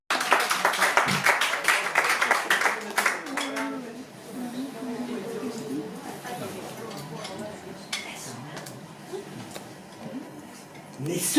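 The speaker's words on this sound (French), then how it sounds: "Veuillez applaudir" A slam poetry night audience at La Zonmé in Nice claps loudly for about four seconds, then settles into chatter and scattered small noises.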